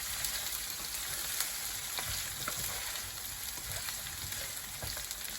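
Onions fry in a pan with a continuous, close sizzle, while a spoon stirs them now and then, adding light scraping and clicking over the steady crackle.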